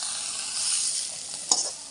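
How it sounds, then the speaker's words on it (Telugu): Mint leaves fry in hot oil in a pan with a steady, close sizzling hiss, a brief clink or stir near the end, and no talking. "వేగేంత వరకు ఈ ఆకుని మనం పాడ్చుకోవాలి"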